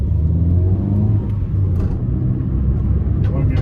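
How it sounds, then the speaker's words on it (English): Nissan Micra K11 engine on a cold day after fitting new spark plugs, droning low and steady from inside the car as it struggles to rev while driving, bogging down under a constant rumbling hum. "So it bogs down, and then obviously it's not revving high enough really."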